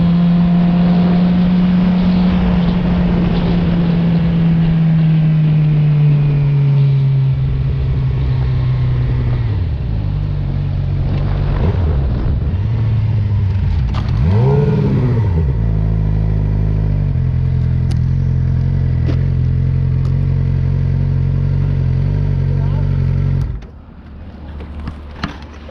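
A 2015 Suzuki Gixxer 750 motorcycle on the road, its engine droning loud and steady with pitch sweeping up and down through gear changes, dropping to a low idle near the end.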